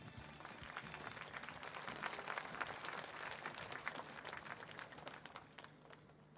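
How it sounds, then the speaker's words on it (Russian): Audience applause after a dance performance at the Krasnoyarsk Music Festival, a sustained wash of clapping that swells in the middle and then tapers off, fairly distant and soft. "Аплодисменты."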